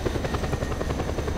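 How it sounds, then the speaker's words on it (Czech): A heavy transport helicopter in the video game Just Cause 2 drones with a loud, steady rotor thrum and fast, even pulsing throughout. "Sakra, to je taková těžkopádná transportní helikoptéra."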